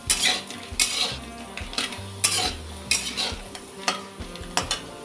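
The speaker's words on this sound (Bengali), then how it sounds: "শুকনো কড়াইতে আলুগুলোকে একটু ভেজে নেব" Potatoes stirred in a dry kadai without oil, a spoon scraping and clinking against the metal pan in repeated strokes with a faint sizzle underneath, close up and with no talking.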